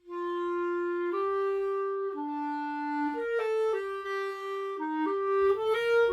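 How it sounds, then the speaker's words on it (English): A bright sustained melodic line, synth or organ-like, steps between held notes, sounding dry and close with no reverb tail. "if I take off all the reverb and all the stuff that's attached to it"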